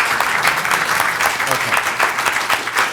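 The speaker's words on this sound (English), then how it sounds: "Round of applause." A session audience claps in loud, dense applause that holds steady throughout, with one brief spoken word near the start.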